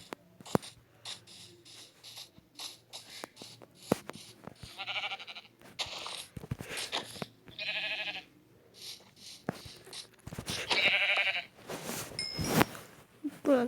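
Sheep in a video game bleat repeatedly in short wavering calls, scattered between clicks and small game noises, fairly close and clear with no talking.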